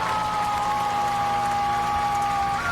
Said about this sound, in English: Again, you can hear the crowd. It's very loud.